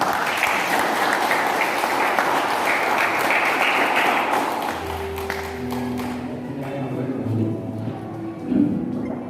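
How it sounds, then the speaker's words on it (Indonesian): Congregation clapping in a Baptist church during an organizing service, a dense burst of applause that thins out halfway, giving way to low tonal sounds and scattered claps toward the end. "Tepuk tangan."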